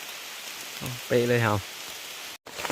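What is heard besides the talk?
rain falling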